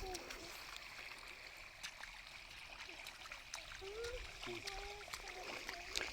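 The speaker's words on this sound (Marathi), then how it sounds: "भुईमुगाला पाणी सोडले" Water gurgles and trickles steadily as it flows along a channel into a groundnut field, with soft splashes and a few faint bird chirps above.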